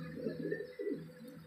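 A pigeon coos softly and close by, two or three low throaty rolling notes in quick succession.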